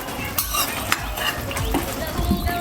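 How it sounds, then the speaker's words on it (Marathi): Masala for a restaurant-style dudhi (bottle gourd) kofta curry fries in oil while being stirred, a steady close sizzle broken by scraping spoon strokes and light metallic clinks against the pan, with no talking. "ह्याला आपण तेल सुटेपर्यंत भाजून घेऊया"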